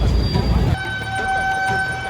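Vehicle horns honk amid street traffic in Jaipur, India, with sustained steady horn tones under a constant background traffic din.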